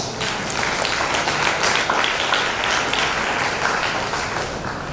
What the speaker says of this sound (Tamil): ஒரு கைத்தட்டப்படுது.